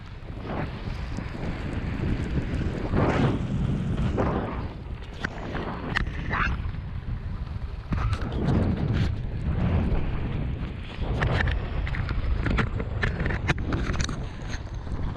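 Loud, gusty wind buffeting the microphone in continuous rumbling bursts while cycling into a headwind during a 150 km bike race, no voices heard.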